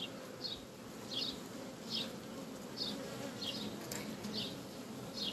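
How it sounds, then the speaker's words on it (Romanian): Honeybees buzz quietly and continuously in the hive as a queen attacks a queen cell, with faint high chirps recurring about every half second over the low hum. "Albinuții încearcă să o protejeze, dar matca nu o să se lase"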